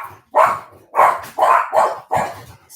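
Excited dogs bark indoors, five or six loud, close barks in a quick, even rhythm with short gaps between them.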